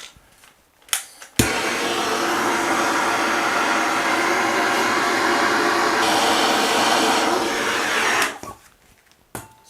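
A handheld heat tool heating metal bolts during a shower drain replacement, blowing with a loud, steady whooshing roar for about seven seconds before cutting off, with brief clunks just before it starts and after it stops.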